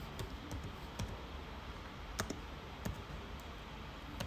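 Quiet, sparse clicks of computer keyboard keys, a scattering of separate taps over a steady background hiss, with no voices.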